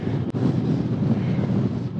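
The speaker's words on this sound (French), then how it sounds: "avec le vent, je suis pas sûr que vous m'entendiez" Strong wind roars across the microphone of a cyclist riding outdoors, a loud, constant low rumble and buffeting with no break.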